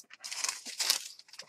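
Paper being cut for a junk journal, a short burst of close crisp snipping and crinkling strokes, quiet and alone.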